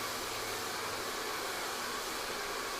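A hair dryer blows continuously at high speed during a long layer haircut in a salon, a loud, steady, unbroken roar close by with no voices.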